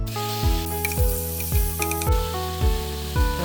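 Shrimp frying in olive oil in a pan give a steady close sizzle and hiss, with soft stirring scrapes and background music over it.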